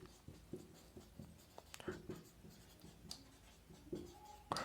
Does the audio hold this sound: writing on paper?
yes